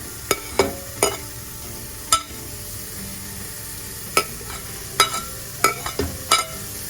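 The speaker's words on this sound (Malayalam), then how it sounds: "നമുക്ക് നമ്മുടെ ബാക്കിയുള്ള എടുത്ത് വെച്ചേക്കുന്ന പച്ചക്കറി ഇട്ട് കൊടുക്കാം." Carrot and capsicum frying in a pan, with a steady soft sizzle broken by a handful of sharp scrape and clink transients from stirring, close and moderately loud, no voices.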